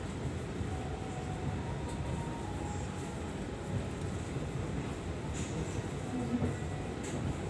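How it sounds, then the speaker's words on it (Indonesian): The Argo Muria express train roars along between Semarang and Jakarta with a dense, continuous rumble and rushing noise, steady and loud throughout. "Cepet banget sih, ngebut terus emang kereta Argo Muria ini"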